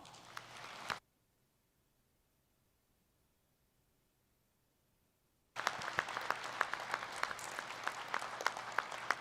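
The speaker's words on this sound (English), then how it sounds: "I want you to give them a great round of applause." Graduates at a law school hooding ceremony applaud their family and friends in a brief burst of clapping that stops, falls silent for several seconds, then resumes as dense, sustained applause from a large indoor crowd.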